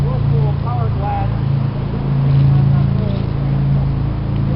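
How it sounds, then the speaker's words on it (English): Low droning engine hum of a jet boat in a river gorge holds steady throughout, with a person talking over it nearby. "So, there's a jet boat."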